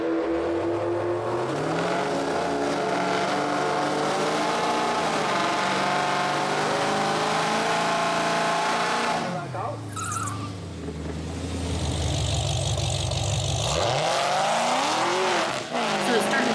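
A drag race car launches with its brand-new Hoosier tires spinning, giving a loud, sustained engine roar that climbs in pitch, dips, then rises again as the car accelerates, heard up close and continuous throughout.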